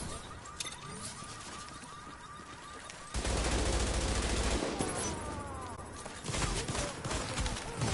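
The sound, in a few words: shotgun fire in the video game The Division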